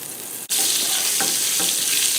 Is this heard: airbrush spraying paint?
no